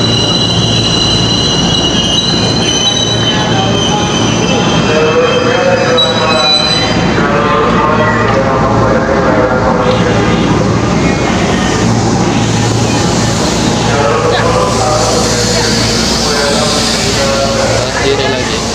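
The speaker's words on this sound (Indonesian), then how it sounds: "KRL-nya langsung nyampe guys." A KRL commuter train pulls into Manggarai station, wheels squealing loudly on the rails with a rumbling approach and clacking, while voices and station bustle carry underneath.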